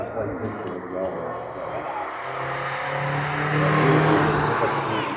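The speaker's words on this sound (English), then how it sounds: "here's that TVR we saw earlier leading the pack of cars during the Dream Car Speed Run" TVR sports car leading a pack of cars on a wet track during a festival speed run, a steady engine drone that swells toward the end, with other cars mixed in and voices talking over it.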